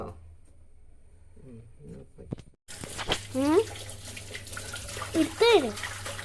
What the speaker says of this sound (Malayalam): നല്ലോണം കഴുകി വൃത്തിയാക്കിക്കണ് രണ്ട് മൂന്ന് നാല് കഴുകൽ